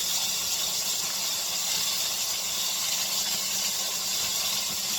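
Steady, loud sizzling hiss of fish strips and squash fries frying in hot oil, continuous and unchanging throughout, with no voices.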